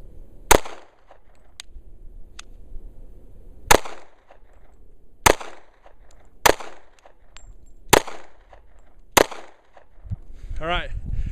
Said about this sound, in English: All right, 6 rounds goes fast.